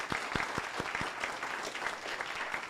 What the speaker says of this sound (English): we'd like to thank them with a little round of applause